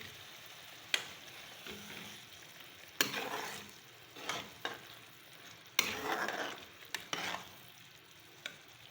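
Green chillies and fresh coriander are stirred into a pan of cooking baingan bharta, with a soft sizzle beneath repeated bursts of scraping and stirring and a few sharp knocks of the spoon.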